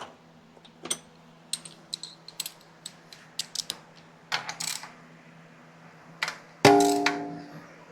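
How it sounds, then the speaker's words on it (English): A ratchet used while tightening bolts on an AOD automatic transmission, a series of short sharp metallic clicks in uneven bursts, ending with a brief louder ringing clank, close with no speech. "now we get the ratchet."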